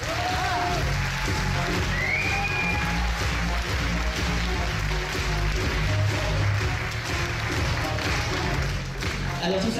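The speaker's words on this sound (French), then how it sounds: "Merci d'applaudir Laura Pierre." Steady applause from an audience at a Miss Poitou-Charentes pageant welcoming a former Miss Poitou-Charentes 2013 to the jury, a dense continuous clatter of clapping filling the hall at even loudness throughout.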